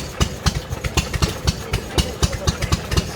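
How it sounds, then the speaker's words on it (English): A Morris 2-ton dropside lorry with a 6-cylinder 4-litre petrol engine idles at a transport show, its close, loud engine chugging in a quick, uneven pulsing rhythm. "Morris FGK 4965 2-ton drop size lorry powered by 6-cylinder 4-litre petrol engine"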